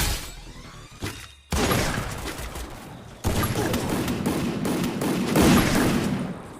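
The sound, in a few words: gunfire in the video game Free Fire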